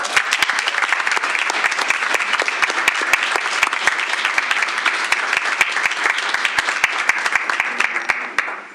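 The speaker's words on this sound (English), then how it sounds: "Let's give them a round of applause." Steady, dense applause from a school board meeting audience honoring Skyline High School students, sustained and fairly loud for the whole stretch before fading slightly at the end.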